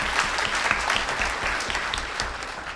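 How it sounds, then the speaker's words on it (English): Audience applause at a San Diego Comic-Con 2016 panel, a steady wash of many hands clapping throughout, fairly close and even in loudness, with no voices over it. "So first, a big clap for that."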